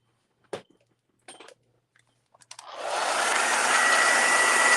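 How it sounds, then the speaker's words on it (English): A few short clicks and taps, then a hair dryer, used to dry paint-pen lettering, switches on and blows steadily with a loud, even whoosh. "I'm going to need to pull out the hair dryer"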